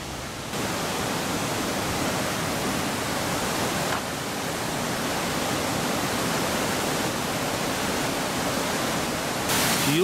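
Water of a stream in the Peak District rushes steadily, a loud, continuous broadband roar heard close up with no talk.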